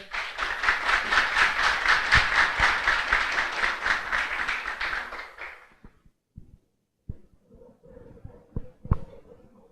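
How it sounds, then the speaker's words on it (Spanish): An audience at a food-sector engineering conference breaks into strong, sustained clapping for an engineer, which fades out after several seconds into scattered small noises. "un fuerte aplauso para el ingeniero"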